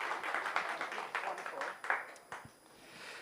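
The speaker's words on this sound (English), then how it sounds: "If I get a round of applause." A sparse audience at a student TV pitch night gives a quiet round of scattered hand claps that thins out and fades over a few seconds.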